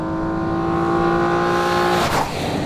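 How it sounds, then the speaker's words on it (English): A Ford Flex with the EcoBoost twin-turbo V6 accelerates hard, giving a loud, steady engine drone heard from inside the car that rises, then eases off near the end, with no talk. "You could also opt for the EcoBoost V6. That's a twin-turbo V6 with gobs of power."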